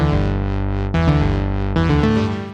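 Layered synth rhythm and bass for indie game music play loud and distorted, with pulsing chorused chords that change in distinct steps.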